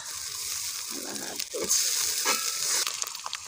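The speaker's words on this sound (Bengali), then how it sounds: "প্রথমে আদা রসুন বাটা দিচ্ছে, রসুন বাটা" Ginger garlic paste sizzles hot in a pan in a village kitchen, a steady loud crackling hiss with a few scrapes of stirring, during cooking of koi fish.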